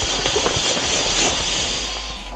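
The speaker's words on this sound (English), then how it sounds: "You can hear the air coming out of it." Steady broadband hiss of air rushing out of an inflatable air mattress as it deflates, continuous and fairly loud with no gaps.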